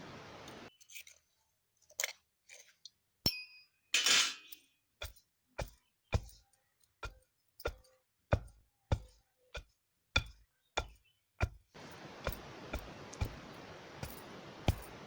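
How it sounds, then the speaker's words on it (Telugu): Sesame seeds and jaggery are pounded together with a pestle: a long run of about fifteen close, sharp thuds in a steady, even rhythm, ending in a louder, denser scraping noise. "నువ్వులు బెల్లము రెండూ కలిసిపోయే విధంగా రోకలితో దంచుకోవాలి"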